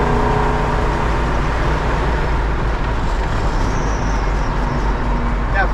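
Steady road rumble and wind rush surround a 1966 Plymouth Satellite convertible cruising along, a loud, continuous low drone with a constant engine hum underneath.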